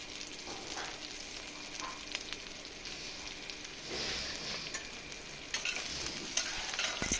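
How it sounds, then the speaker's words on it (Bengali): Chopped onions frying in oil in a wok crackle and sizzle quietly while a spatula scrapes and stirs in irregular bursts, with a few louder clacks toward the end. "পেঁয়াজ কুচিগুলোকে আমি একটু লাল লাল করে ভেজে নিয়েছি।"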